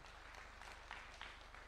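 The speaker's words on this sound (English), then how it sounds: "And let's just clap for them one more time." Audience applause for medal-winning Tokyo Olympic athletes at a presidential breakfast meeting, a steady, fairly faint wash of clapping that carries evenly throughout.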